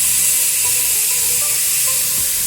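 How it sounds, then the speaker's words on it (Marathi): A pressure cooker holding vegetable masala rice with paneer vents steam in a loud, continuous hiss that stays close and unbroken for the whole short stretch. "मस्त कुकर लावून याच्यात तीन शिट्या काढून घ्यायच्या"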